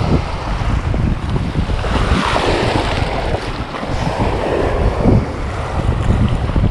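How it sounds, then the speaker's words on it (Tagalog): Large sea waves breaking under strong wind at a fishing spot, a loud continuous roar with heavy wind buffeting the microphone and surges of surf rising and falling, no talking. "Lalaki ng alon"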